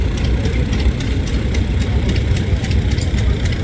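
A 1927 JD tractor engine runs in a town parade, a loud steady chugging with regular beats close by and no voices over it.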